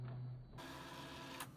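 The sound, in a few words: inkjet printer printing a nozzle check pattern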